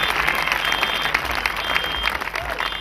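A crowd at a crusade in Bafoussam claps in a dense, continuous patter of applause, fairly loud, with a faint voice beneath it.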